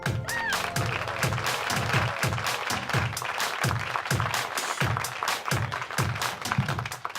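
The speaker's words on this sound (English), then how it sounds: "Don't worry, everybody else clapped." A comedy club audience claps for an incoming comic, with loud, continuous applause carrying a steady rhythmic pulse and low thumps throughout.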